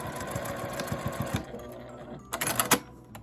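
A sewing machine tacking fabric 2 cm from the left edge for a drawstring bag, a quiet rapid needle patter that stops, then picks up again briefly with a few sharper mechanical clicks.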